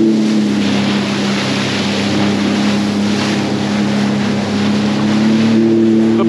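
A motorboat engine drones steadily and loudly on open water while waves and wind buffet the microphone, following a large lake freighter near the Buffalo skyline, with no voices.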